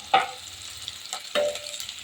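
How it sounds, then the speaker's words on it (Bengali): Hot oil sizzles steadily as onions fry, with two louder bursts of crackling and spatter as the pan is stirred. "এই পেঁয়াজ ভাজা তুলে রেখে দেবো"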